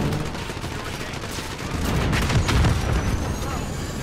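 Dense, continuous gunfire and booms in a shooter video game, a loud unbroken barrage that swells slightly midway, with no voices.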